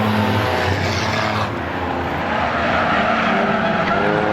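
Race cars roaring around Star Speedway during a Six Shooter feature, loud continuous engine drone with a passing car sweeping by, a faint announcer voice mixed beneath.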